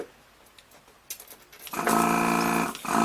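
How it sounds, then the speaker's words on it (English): A vacuum desoldering tool pulls solder from a Juno 106 synthesizer circuit board during a Kiwi 106 upgrade. After a quiet stretch with small clicks, it kicks in as a loud, steady mechanical buzz that briefly dips before resuming. "you should use a vacuum desoldering tool for this"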